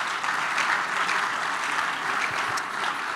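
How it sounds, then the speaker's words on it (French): A church congregation applauds loudly, dense sustained clapping filling the room evenly from start to finish. "Maintenant, acclame très fort,"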